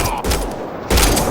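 Gunfire in the Mass Effect: Andromeda shooter, a loud close burst of rapid shots cutting off briefly, then resuming sharply.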